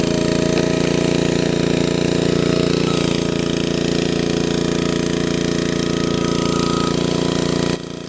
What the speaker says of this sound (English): With a log splitter like this, you have to be fine taking your time.